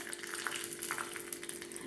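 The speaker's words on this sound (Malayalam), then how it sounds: "ഒരു ടേബിൾ സ്പൂൺ നെയ്യ് ഒഴിച്ചെടുക്കുക കുറച്ച് അണ്ടിപ്പരിപ്പ് നുറുക്കിയത് ഏലക്കയും ചേർത്തെടുക്കുക" Chopped cashews and cardamom fry in a tablespoon of ghee with a soft, continuous crackling sizzle, close and fairly quiet, with no voices.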